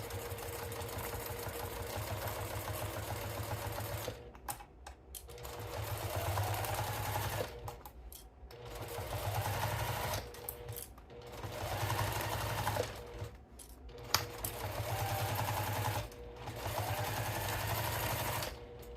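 A sewing machine stitches clear vinyl at a long stitch length in several short runs with brief pauses between them, its motor whirring close and steady.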